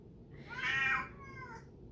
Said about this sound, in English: My cat's saying hello.